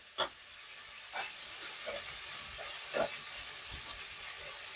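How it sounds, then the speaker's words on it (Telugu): Carrot and beetroot sizzle in a pressure cooker, a quiet steady hiss with a few soft clinks and stirring bumps spaced about a second apart. "క్యారెట్ అలాగే బీట్రూట్ వేసుకొని వాటిని ఒక త్రీ టు ఫోర్ మినిట్స్ మనం మగ్గించుకోవాలండి"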